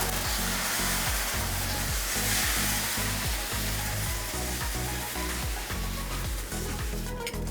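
Thin dosa batter spreads across a hot iron griddle, giving a steady, close sizzle with a regular low scraping rhythm as it is smoothed out, and no voices.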